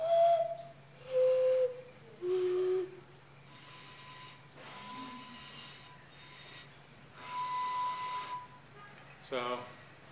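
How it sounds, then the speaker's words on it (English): A handmade four-chambered ceramic whistle blown in short separate toots, first three descending pitches, then longer steady tones, with soft breathy gaps between notes in a quiet room. "This is my four-chambered whistle."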